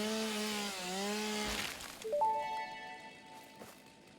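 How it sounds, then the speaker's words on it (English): A chainsaw in the video game Satisfactory revs up and cuts through cactus plants, a whining tonal buzz that sweeps in pitch, drops off, then restarts with a sharper, higher engine note. "And the chainsaw can do lots of things."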